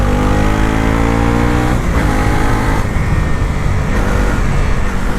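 A 2025 Bajaj Pulsar NS 400Z motorcycle accelerates hard on a road, its engine note rising loud and close, then dropping at a gear change and climbing again under steady wind roar.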